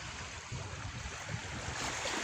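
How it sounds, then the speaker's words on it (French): Water and waves wash continuously during a daytime relaxation session, a steady broadband rushing with gentle swells in loudness and no voices. "J'apprécie le mouvement des vagues, le bruit de l'eau"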